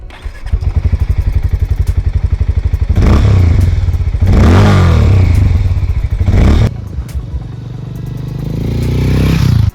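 A Hero Mavrick 440 motorcycle idles nearby with a loud, steady thumping exhaust beat, then is blipped in two hard revs that rise and fall before it settles back to idle and swells once more.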